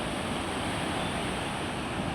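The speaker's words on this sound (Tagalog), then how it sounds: "Oh, ang laki ng alon, no?" Big ocean surf rolls in where surfers ride, heard as a steady broadband wash of breaking waves, loud and continuous with a windy rush.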